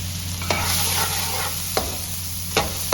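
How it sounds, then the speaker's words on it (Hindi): Onions fry in hot oil in a karahi, giving a steady close sizzle broken by a few sharp scrapes of a stirring spoon against the pan, with no talk. "जब ऑयल गर्म हो जाए तो इसमें प्याज डाल दें"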